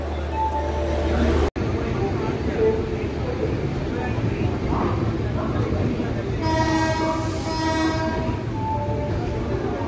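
A train rumbles steadily alongside platform 5 at Kharagpur station with station noise, and a high horn sounds twice near the end.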